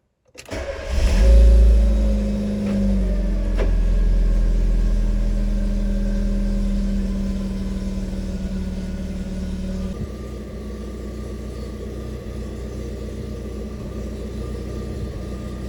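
A car engine starts after its electronic throttle body has been cleaned, then settles into a steady low idle rumble, loud and continuous with no talk, dropping slightly in level partway through.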